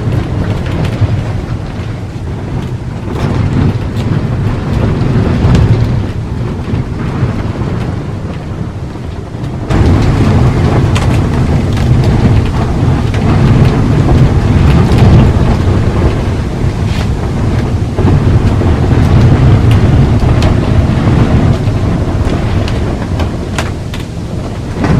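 Storm wind roaring over the open sea while heavy waves rock a small boat, a loud, unbroken rush of wind buffeting and surf that surges briefly after a slightly calmer stretch, with no voices.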